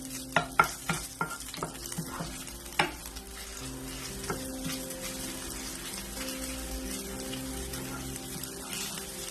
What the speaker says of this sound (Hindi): मैं इसमें 1 टीस्पून के करीब पिसा हुआ अदरक का पेस्ट डाल रही हूँ। इसको हल्का सा सौते करेंगे इसी ऑयल में।